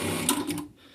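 A JUKI 8000C sewing machine stitching in a short mechanical whirring run that stops abruptly, leaving near silence.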